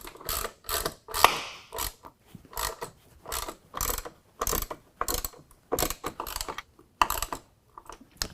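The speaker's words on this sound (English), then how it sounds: "then tighten down all the hardware using a 13mm" A 13mm ratchet tightens the bracket hardware for Go Rhino Dominator side step sliders on a 2016 Ford F-150 SuperCrew. It makes rapid clicking bursts in an uneven rhythm, close and clear with no talk.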